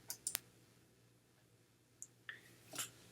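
A computer mouse gives a few faint, sharp clicks spaced irregularly over a quiet room hum.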